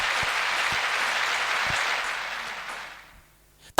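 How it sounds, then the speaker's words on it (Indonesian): A church congregation claps together in steady, dense applause at a moderate level, fading out over the last second before a sudden loud sound cuts in at the end. "Tepuk tangan buat Tuhan."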